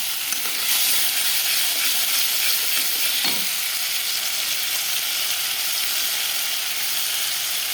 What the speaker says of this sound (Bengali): এখন এটা ভালো করে কষাবো।